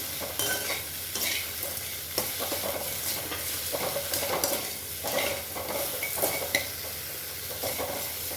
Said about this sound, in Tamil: குடமிளகாய் சீக்கிரம் வதங்கிடும்.